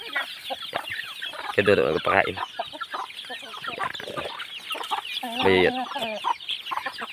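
Chickens on a rural farm cluck busily and close by, with a few louder bursts of clucking, while someone talks over them throughout.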